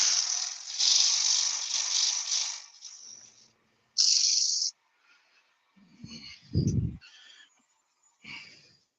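Sandpaper rubbing on a surface in several bursts: a long loud scratchy stretch at first, a brief hard burst after a gap, then quieter scattered rasps and a low thump near the end.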